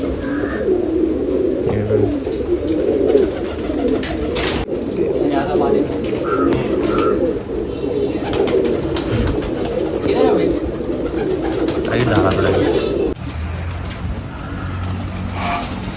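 Pigeons coo and flutter at a pigeon festival in Nashik, with steady crowd chatter, voices and passing traffic mixed in throughout.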